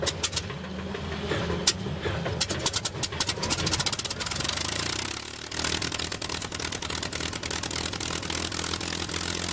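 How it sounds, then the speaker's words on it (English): Rolls-Royce Merlin 61 engine of a P-51B Mustang fighter plane, a rough rapid popping and crackling that settles into a steady, loud droning run. "Powered by the Rolls-Royce Merlin 61 engine"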